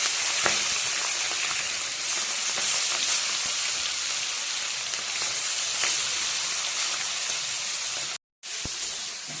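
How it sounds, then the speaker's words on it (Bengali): Prawns frying in hot oil for a Bengali doi posto chingri dish, a loud, steady sizzle and hiss throughout with crackling pops, cutting out briefly near the end. "তেল গরম হয়ে গেছে, চিংড়ি মাছগুলো দিয়ে দিচ্ছি।"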